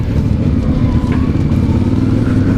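A CF Moto 450MT motorcycle engine runs loud and close during off-road riding, a continuous rough rumble with slight throttle swells and no talk over it.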